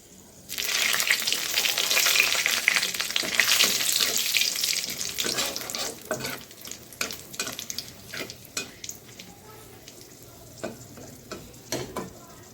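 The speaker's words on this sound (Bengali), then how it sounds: "এখন এই তেলটার মধ্যে ফোড়ন দিয়ে দিন এই যে শুকনো লঙ্কা" Dried red chilies crackle and sizzle sharply as they hit hot oil for tempering, a loud broadband frying burst that settles into softer sizzling with scattered pops and spoon taps, no voices.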